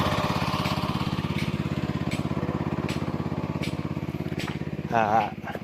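A small water pump engine runs steadily close by, a continuous throbbing drone with a fast regular pulse, briefly joined near the end by a short burst of talk.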